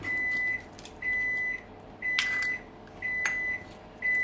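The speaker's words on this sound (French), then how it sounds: "C'est le micro-ondes." A microwave oven melting chocolate with oil gives a series of five steady, evenly spaced tones about half a second each, with a couple of sharper clicks or beeps among them, close and alone.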